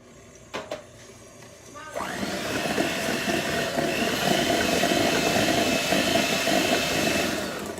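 An electric mixer whirs loudly and steadily while it beats gingerbread batter, starting up after a few quiet knocks and running without a break to the end.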